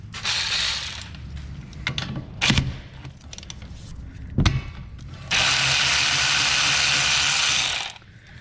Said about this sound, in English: we're gonna go ahead and remove this caliper. Looks like they're held on with 2 14mm bolts.